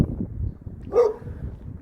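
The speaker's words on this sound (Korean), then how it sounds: "강아지가 큰 개가 짖고 있는데" A large dog barks once at mid-distance beside a quiet rural building lot near a village, a single short bark rising briefly above faint outdoor background rumble.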